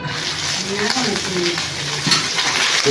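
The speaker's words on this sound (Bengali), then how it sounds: "একদিকে কাতলা মাছের মাথা ভাজা হচ্ছে" Catla fish head frying in oil, a constant close sizzle and spatter with faint clinks and background murmur throughout.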